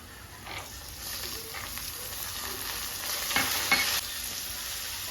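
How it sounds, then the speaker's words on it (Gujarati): Chopped onions with soaked chana dal frying in a pan, a steady soft sizzle with occasional scraping stirs, moderately quiet and continuous. "હવે આ ડુંગળી આપણી શેકાઈ જવા આવી છે ગુલાબી કલર આવવા માંડ્યો છે"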